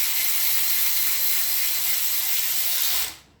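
Steady ratcheting whir of a hand ratchet tightening bolts on an engine short block, continuous and close for about three seconds before cutting off abruptly.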